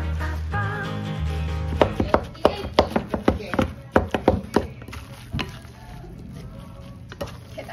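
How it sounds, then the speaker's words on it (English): Seasoned ground meat filling for baozi, finished with sesame oil, being mixed by hand or spoon close up: a run of irregular wet slaps and soft thuds, quickening and then easing, with no talking. "Gonna mix it all together."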